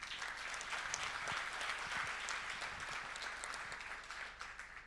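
Steady audience applause fills a Dutch debate hall on the position of Arameans in Turkey, a dense, even clapping that continues throughout before easing slightly at the end.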